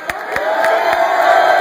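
Loud concert crowd at a show in Chandler, Arizona, cheering and whooping steadily throughout, a dense roar with scattered sharper shouts.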